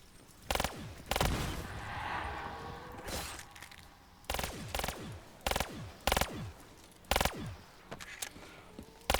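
Sharp single shots and short bursts from an RK5 firearm in a shooter video game, irregularly spaced with loud cracks and brief echoing tails, close and prominent with no talking over them.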